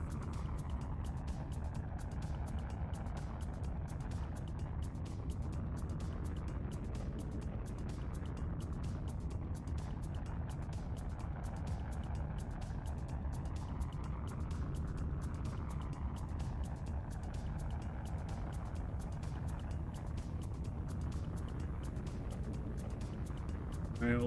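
Spaceship engine in the game Dual Universe running as a steady, low droning hum with a faint, slowly sweeping tone and rapid ticking above it, quiet and unbroken throughout.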